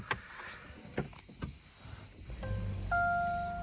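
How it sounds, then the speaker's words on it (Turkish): A Volkswagen Golf 8 mild hybrid engine comes to life without any starter cranking, a few soft clicks and taps followed by a quiet, smooth hum and steady tones, faint and close inside the car. "O marş sesi olmadan direkt motorun çalışması"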